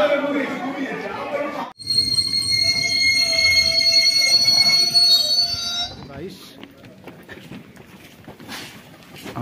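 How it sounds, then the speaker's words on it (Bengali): Train wheels squealing at Bankura station as the train draws in, a loud sustained high-pitched screech over heavy rumbling that cuts off and leaves lower mechanical noise. "এখন 4:05 বাঁকুড়া স্টেশনে ট্রেন দাঁড়ালো।"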